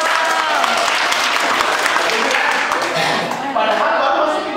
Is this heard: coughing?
no